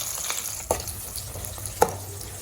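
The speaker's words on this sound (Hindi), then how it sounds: "अब एक मीडियम साइज प्याज को स्लाइस करके डालेंगे हम।" Sliced medium onion frying in hot oil with mustard seeds and whole cumin, a steady low sizzle broken by a couple of sharp spoon stirs against the pan.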